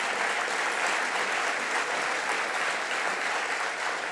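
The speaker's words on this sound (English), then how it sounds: "Thank you for the applause." Steady, dense applause from a large conference audience at CityLab 2022 in Amsterdam, sustained at an even level throughout with no voices standing out.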